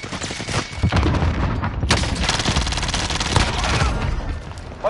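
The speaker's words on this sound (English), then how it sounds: "And he's shooting me." Dense gunfire from enemies in a first-person shooter video game, sustained bursts and rattling shots filling the whole stretch with a sharp crack partway through, loud and continuous with no talk over it.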